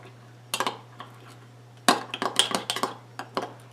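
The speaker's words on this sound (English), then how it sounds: "give them all a good stir" A spoon clinks against dishes while stirring keto overnight noatmeal mixed with cocoa powder, with a single scrape early and then a quick run of rhythmic taps and clinks, close up over a steady low hum.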